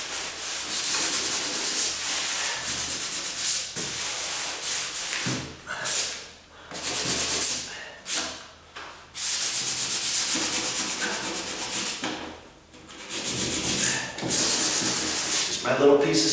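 Sandpaper rubbed by hand over a car door, giving repeated rough scraping strokes in uneven bursts with short pauses between, close and fairly loud.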